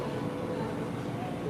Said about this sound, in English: Most of the time it's just that annoying noise of trains.